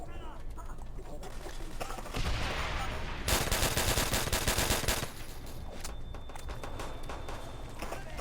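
Gunfire in the Call of Duty video game, with dense rapid bursts and heavier volleys in the middle stretch, heard under a steady game backdrop and talk.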